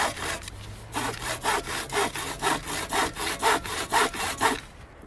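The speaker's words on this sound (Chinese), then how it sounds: "好了，现在我开始锯木头。" A wooden stick is hand sawn for raising a garden fence against deer, giving a steady rhythm of about a dozen rasping strokes, close and loud, ending as the cut finishes.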